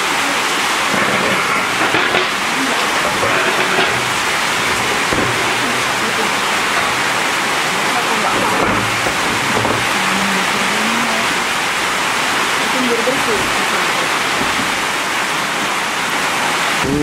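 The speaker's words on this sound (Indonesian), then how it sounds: "Hujan membasahi." Steady heavy rain pours down outdoors, a dense, even hiss that fills the whole stretch without letup, loud and close, with faint voices underneath.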